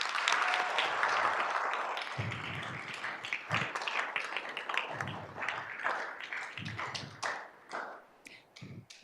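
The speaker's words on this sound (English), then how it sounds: "Let's give her a round of applause." Audience applause at a school district governing board meeting honoring a board member, scattered claps and taps growing thinner and more sporadic toward the end, moderately near with room echo.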